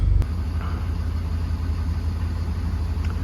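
A Willys CJ-2A jeep engine idles steadily and close by, with a deep, even low rumble that carries on alone without any talk.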